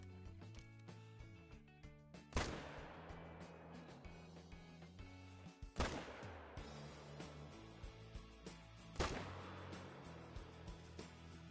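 Three sharp, booming rifle shots ring out in the hunting game Call of the Wild, each a sudden loud crack with a rolling echo, spaced a few seconds apart amid quiet ambient game sound.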